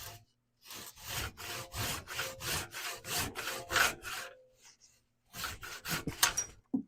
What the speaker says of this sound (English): Grab my crosscut saw here.